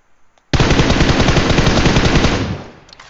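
A loud, close burst of rapid automatic gunfire from the PUBG Mobile game rattles for about two seconds and then fades out, heard alone without voices.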